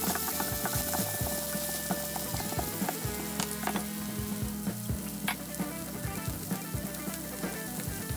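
Peppers and onions sizzle and fry steadily in oily pan for a Spanish-style omelette, a continuous close crackle with occasional stirring scrapes and clinks throughout.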